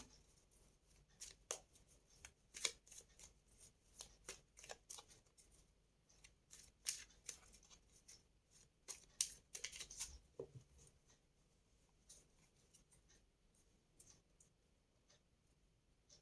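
Soft, scattered snaps and flicks of tarot cards being laid out, quiet and close, with brief shuffling sounds and no talking.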